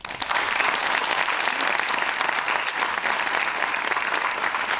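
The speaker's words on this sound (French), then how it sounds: "Je pense qu'on peut les applaudir très fort." Audience at a live rock opera performance applauds the dancers, loud sustained clapping from a large crowd filling the whole stretch.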